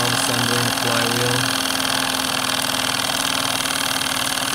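A Wilesco D10 toy steam engine with a small governor, slide valve assembly and flywheel runs steadily close by, giving a continuous even mechanical chuffing whir with no talk.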